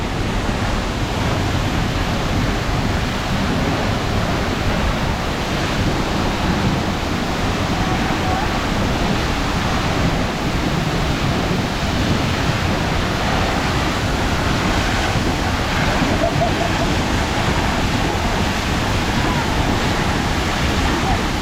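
Sipi Falls waterfall in Uganda roars as a loud, steady, unbroken wash of water close by, filling the whole stretch with no pauses.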